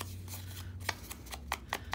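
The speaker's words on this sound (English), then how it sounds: "let's use the tiny scissors to nip the corners this time" Small scissors nip the corners off paper index cards in a craft setting, giving several short, crisp snips spaced about half a second apart over a faint steady background hum.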